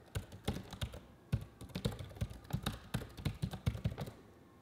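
A password typed on a computer keyboard during software installation on a Mac: close, quick irregular key clicks and thunks, steady for several seconds with no talking.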